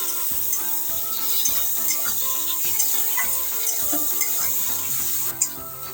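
Chopped tomato with a little salt sizzles steadily in a hot pan, a continuous close frying hiss broken by regular scraping stirs and an occasional clink of the spoon, with no voices.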